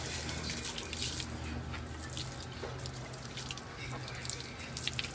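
Tap water running steadily and splashing during a bath, a continuous close hiss of flowing water with faint drips, with brief voices in the background.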